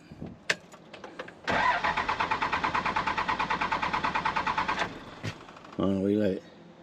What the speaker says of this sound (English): So now we're going to try to start it. I'm going to do this in cycles because it's probably not going to start right up.